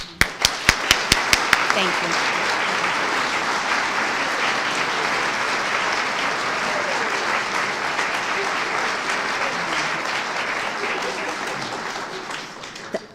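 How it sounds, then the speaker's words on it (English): An audience at a law school event honoring the first women lawyers in Rhode Island breaks into warm applause, opening with several distinct claps that swell into steady sustained clapping before fading, with a brief voice heard near the start. "I hope you will all join me in a warm round of applause for the first women tonight"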